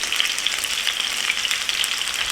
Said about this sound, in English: We're not deep frying it, and we're not fully frying it.